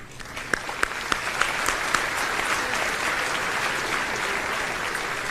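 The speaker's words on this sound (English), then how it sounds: "give them a round of applause" A graduation ceremony audience applauds in a steady, dense wash of clapping, with a few sharp individual claps standing out near the start, sustained throughout with no speech over it.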